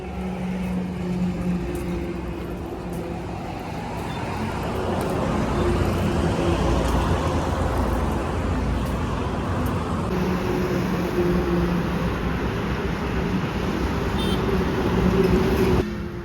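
Car driving along a highway, a steady road rumble and engine drone that swells slightly as it picks up speed, continuous and close with no speech.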